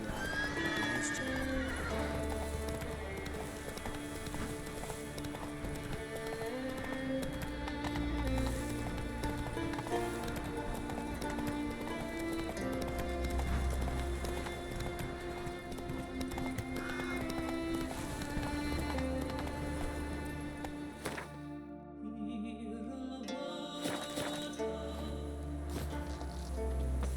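Roach the horse galloping in The Witcher 3, rapid hoofbeats with a whinny, played under continuous game music and a brief spoken line.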